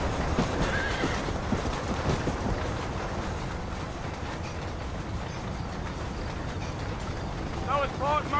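A spurred horse galloping in Red Dead Redemption, with continuous dense hoofbeats, a whinny and rushing wind, loud and close throughout.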